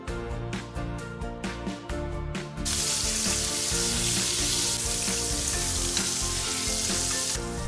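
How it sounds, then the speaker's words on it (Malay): Beef steak, first cooked sous-vide, sears in melted butter in a pan, giving a loud continuous sizzle and crackle that swells after a few brief scraping stirs at the start. "Masak daging sehingga warna keperangan."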